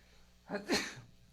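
One quick, quiet sneeze: a short breathy intake and then a sharp burst, heard alone with no talking.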